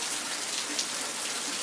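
Steady soaking rain patters on oleander shrubs, knocking blossoms loose; a fine, even hiss of drops hitting leaves fills the scene continuously at moderate level with no voices.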